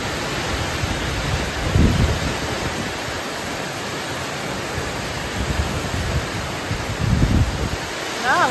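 Heavy typhoon rain pours steadily during flooding in Cainta, a dense, broadband hiss that stays loud throughout, with brief gusty surges of wind buffeting the microphone.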